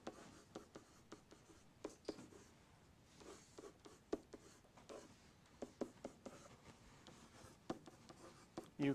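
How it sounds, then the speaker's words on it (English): Pen scratching on paper as a title is written by hand, soft irregular strokes and taps, quiet and close with no talk. "you can write this as a title."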